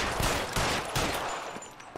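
Rapid bursts of gunfire from the video game L.A. Noire, dense overlapping shots with sharp transients repeating across the moment, loud and close with no talk over them.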